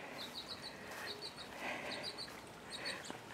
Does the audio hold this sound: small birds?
yes